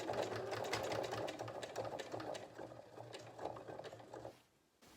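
A sewing machine stitches back over the top of a French seam on a Mors bag, a steady close whirring run of needle strokes that stops abruptly near the end.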